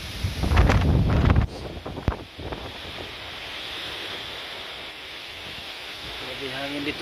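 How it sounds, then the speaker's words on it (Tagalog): Strong typhoon wind in Taiwan roars steadily, with loud blustery rumbling at the start easing into a continuous rushing gale. "Grabe yung lakas ng hangin dito mga idol."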